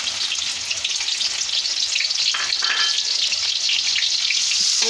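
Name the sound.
onions frying in hot ghee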